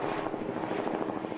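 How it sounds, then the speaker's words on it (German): Helicopters circle overhead in the United States, heard as a brief, steady, fairly faint rotor thrum with no talk. "Hubschrauber kreisen bereits über dem Versteck."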